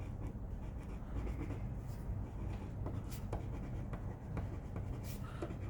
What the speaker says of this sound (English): You can write a message for your father here.